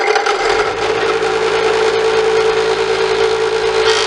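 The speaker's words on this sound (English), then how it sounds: "So I'm going to use this scroll saw to cut these antlers and that nose out." Scroll saw cutting antler shapes out of a wooden board, a loud continuous buzzing whine with a steady motor tone and no pauses.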